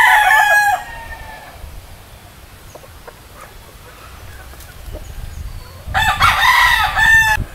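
A young Gilmore stag rooster crows twice, one call at the very start and a second louder one near the end, with a quiet barnyard lull between them.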